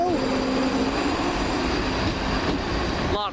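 ScotRail Class 334 electric train running on the line toward Helensburgh Central, a steady loud rolling rumble with faint wheel squeal throughout, then a brief rising whine near the end.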